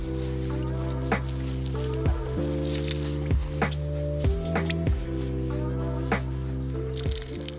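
Water is sponged over a horse to wash off sand and grime, giving repeated soft squishes and drips at an unhurried pace, close by under a steady low background hum.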